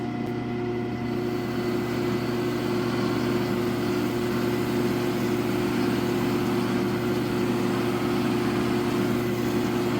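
A buffing wheel polishes a pizza cutter: a steady, loud motor drone with a low humming tone and a faint rushing hiss, running evenly without a break.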